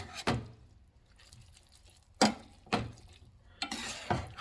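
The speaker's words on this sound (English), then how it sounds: "take your tongs and just give it a soft little toss there" Tongs tossing tuna with red pepper sauce and zucchini noodles in a pan, heard as a few short, close clattering and scraping bursts separated by quiet moments.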